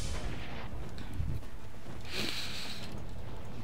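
A grenade bursts in the sci-fi shooter Tribes Ascend, a heavy low boom amid constant loud game noise and rumble, with a brief hiss of debris trailing after.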